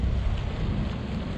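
Wind gusting across open water on a fishing outing, a loud, continuous low rumble of buffeting air with no voices.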